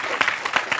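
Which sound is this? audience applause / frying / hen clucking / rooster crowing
audience applause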